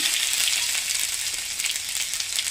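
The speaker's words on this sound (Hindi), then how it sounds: "गरम होला परे आमे दमा किछि सरसो भल से फुटी गला परे किछि जीरा कि रखिथिला" Mustard seeds and cumin splutter in hot oil, a dense bright crackling hiss that stays close and steady through the short moment, with no talking.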